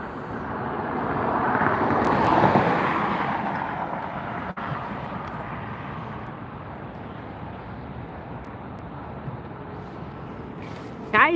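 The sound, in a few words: airliner departing at Los Angeles Airport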